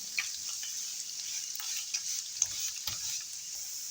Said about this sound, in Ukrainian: хай смажиться